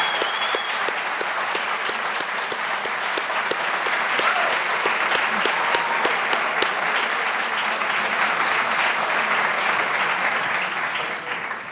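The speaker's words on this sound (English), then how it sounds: "Let's applaud our friends and families as well." Sustained, loud applause from a graduation ceremony audience honoring friends and families, dense, even clapping that holds steady for over ten seconds before tapering at the end.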